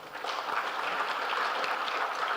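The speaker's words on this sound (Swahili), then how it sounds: "Naomba tuwapigie makofi." Applause from an audience at a national human rights dialogue marking the 75th anniversary of the Universal Declaration of Human Rights. It is a faint, steady patter of many hands clapping throughout, with no voices over it.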